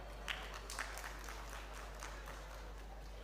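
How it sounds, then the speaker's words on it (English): Faint applause at an agroecological market systems expo for a team, a distant, thin patter of clapping under a steady low hum, with a couple of sharper claps near the start. "a round of applause for this team"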